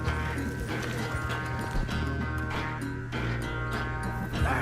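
Horse galloping in a race in the video game Red Dead Redemption 2, steady drumming hoofbeats under continuous game music and ambience, moderately loud with no clear speech.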